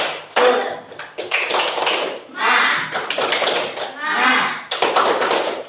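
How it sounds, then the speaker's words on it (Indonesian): Children in an Indonesian classroom perform a rhythmic spirit clap, a series of sharp, close hand claps and taps in a quick pattern, with children's voices chanting and speaking between and over the claps. "Ya, tepuk semangat."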